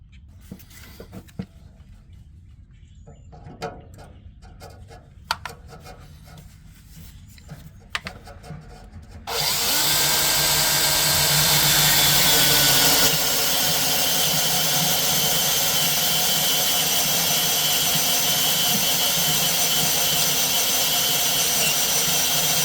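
After some scattered taps and clicks, a power drill starts up with a loud, steady whirring grind, cutting holes to mount a flatbed underbed toolbox, continuing to the end.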